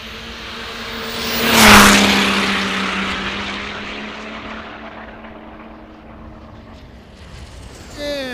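A Pro Class diesel drag racing vehicle at the Diesels in the Desert event tears past on its run down the track, a loud roaring surge peaking near the start and then fading away into the distance.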